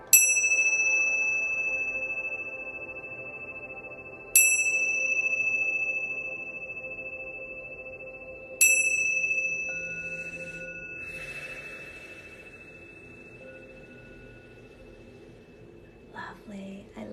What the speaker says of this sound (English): They're called Tibetan prayer bells,